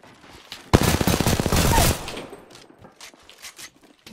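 Video game gunfire, a rapid automatic burst of just over a second at close range, followed by a few quieter scattered shots and clicks.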